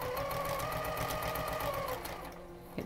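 A sewing machine stitches steadily through fabric for a zippered pencil case, its fast even whirr running close and loud for about two seconds before slowing and dropping away near the end.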